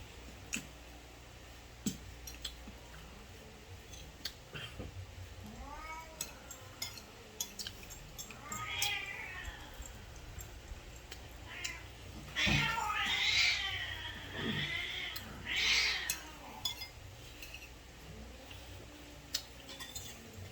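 Pet cats, one a female in heat, meow and caterwaul in drawn-out, wavering cries that swell louder midway, with scattered clicks and background chatter around them.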